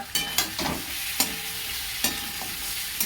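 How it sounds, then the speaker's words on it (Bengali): Catla fish head frying with onion in oil, a steady close sizzle broken by several sharp scraping stirs of a spatula against the pan. "পেঁয়াজের সঙ্গে কাতলা মাছের মাথাটা ভালো করে ভাজা হচ্ছে"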